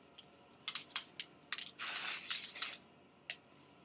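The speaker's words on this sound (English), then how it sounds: "I'm going to spray that product right onto the root and the scalp" A hair product spray bottle gives one sustained hiss lasting about a second onto the roots and scalp, close and fairly loud, surrounded by soft clicks and small handling sounds.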